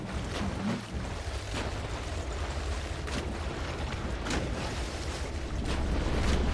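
A vehicle engine in Half-Life 2 Episode 2 shakes and rumbles low while water splashes around it, giving a steady churning wash with a few sharper splashy bursts.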